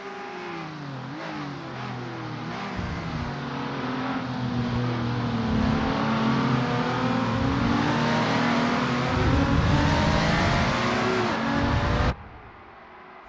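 A Lotus 2 Eleven race car at Spa-Francorchamps in Assetto Corsa drones steadily at high revs, with rising and falling engine pitch through gear changes and a growing roar that cuts off sharply near the end.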